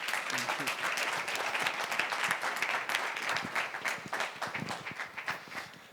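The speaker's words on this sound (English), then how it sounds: "Ladies and gentlemen, one more time for our panel. Let's give them a big round of applause" An audience at a panel event gives a sustained round of applause, dense clapping from many people that gradually thins toward the end, with a voice faintly underneath.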